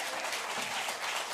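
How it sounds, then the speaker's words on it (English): Steady audience applause at a live radio show taping, a dense wash of clapping at even loudness throughout the short stretch. "Give him a round of applause."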